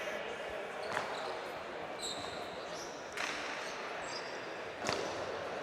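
A cesta punta jai alai ball rebounding off the fronton wall at a final in Durango, three or four sharp cracks spaced a second or two apart over a constant crowd and arena roar.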